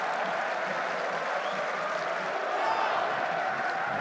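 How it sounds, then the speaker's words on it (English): A rugby stadium crowd at a Toulon versus Clermont Top 14 match celebrates with a Mexican wave, a sustained far-off cheering roar that rises slightly partway through, with no close voices. "Toulon crowd bring out their best Mexican wave by way of celebration"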